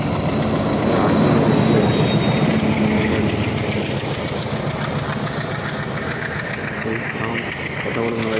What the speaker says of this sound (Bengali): ওখানে ট্রেনটা চলে এসেছে আমার